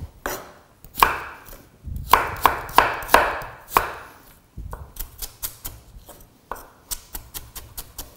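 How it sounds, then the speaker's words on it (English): A knife chops vegetables into thin strips on a board with quick, sharp, close knocks, first in heavier uneven strokes and then in rapid even bursts, with no speech. "I've never chopped them so quick."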